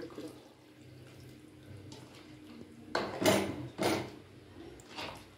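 Water splashes and pours into a metal pot in a few short bursts while cooking a quail curry, with faint clinks of cookware between them.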